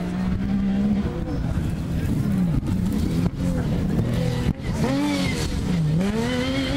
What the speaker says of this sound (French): on écoute ce beau moteur